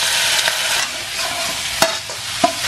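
Pork belly stir-fries with soy sauce in a wok until golden, a loud continuous sizzle punctuated by a few sharp spatula scrapes and clacks against the metal.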